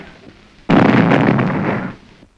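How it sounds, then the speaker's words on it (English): A bomb thrown at a prayer gathering bursts in one loud, close blast, then a broad rumbling roar that holds for over a second before fading. "The explosion was from a bomb thrown by a Hindu refugee to kill Gandhi."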